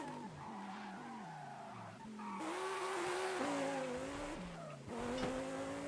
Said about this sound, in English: maybe we should not choose drifting when we're both in all-wheel drive cars